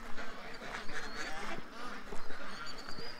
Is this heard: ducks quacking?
yes